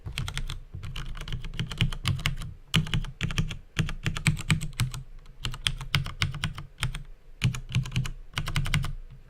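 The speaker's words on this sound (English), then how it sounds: "Let's try it with the keyboard." Computer keyboard typing during play of the ChessWhiz Arcade game, with rapid close clusters of keystrokes in short bursts separated by brief pauses, steady and alone without speech.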